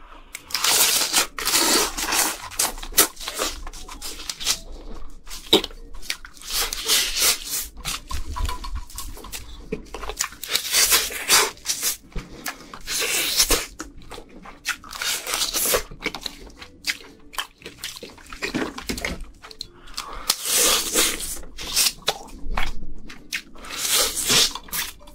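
Red snow crab eaten up close, with wet squishing bites and crunching shell in irregular bursts throughout. Loud and intimate, with no talking.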